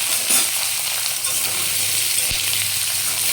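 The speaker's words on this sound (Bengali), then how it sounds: "এই আমি আলু পেঁয়াজটা একসাথে দিয়ে দিলাম" Potatoes and onions, washed and drained, hit hot oil in a pan and sizzle loudly and continuously, with a brief clink of utensil partway through.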